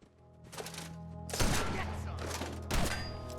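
Gunfire bursts out in the video game Fallout 4 as a gunner bot attacks, giving a couple of loud thumping volleys over a steady game background. The shots sound fairly close and no one speaks.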